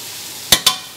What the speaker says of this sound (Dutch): En inktvis hoef je dus helemaal niet lang te bakken.